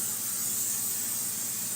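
A short, steady hiss of cooking oil sprayed from a can onto a non-stick bread loaf pan, close and continuous with no talking.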